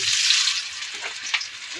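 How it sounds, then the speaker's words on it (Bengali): Boiled potatoes going into hot oil in a pan make a loud, close hissing sizzle that eases slightly, with faint scraping or voice-like sounds toward the end. "এবার সিদ্ধ আলুটাও বসিয়ে দিচ্ছি"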